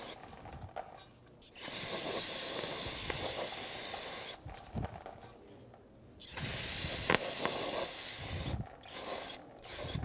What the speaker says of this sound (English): Spray off the packaging oil, brake clean or parts cleaner.